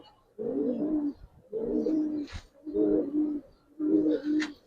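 Pigeons coo in four separate phrases of low, rolling calls, each about a second long with short pauses between, close and clear against a quiet background.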